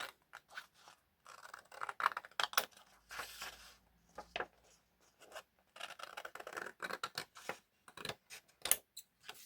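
Scissors snipping folded origami paper, a run of quick, close crisp cuts and paper rustles in uneven bursts, fairly quiet with short pauses between clusters.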